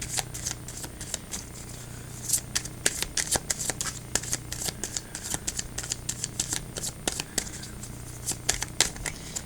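Oracle cards being shuffled by hand, a steady run of crisp riffling clicks and soft flutters, close and continuous over a low background hum, with no talking.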